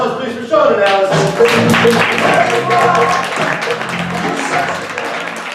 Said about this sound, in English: A round of applause, please, for Sean and Allison.